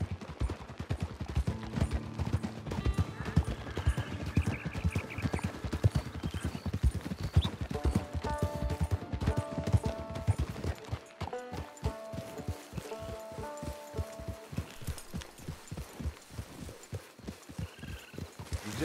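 Horse hooves clip-clop steadily in Red Dead Online, a continuous close trotting rhythm under a western musical score.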